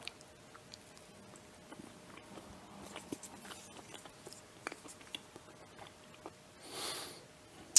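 Someone bites into key lime pie fudge with a crunchy crust and chews it close to the mic, wet crunching and smacking in small irregular bursts, quiet throughout, with a brief breathy rush near the end.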